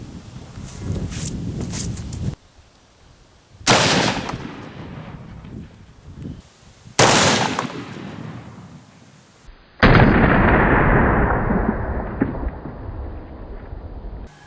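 A 45-70 rifle fires Hornady 325 grain FTX hollow point rounds into ballistics gel outdoors: four loud, sharp booming shots spaced a few seconds apart, each trailing off in a rumbling echo, with no talking.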